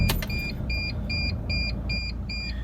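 A Mercedes Sprinter T1N van is keyed on with its brake light switch unplugged, and a short click is followed by a run of regular electronic warning beeps over a low, steady hum.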